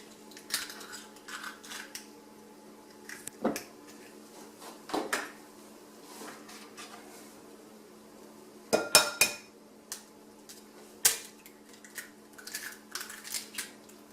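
Sharp clinks and taps of four eggshells cracked against a bowl of chocolate cake batter, close and fairly faint, coming in irregular clusters with quiet pauses between them.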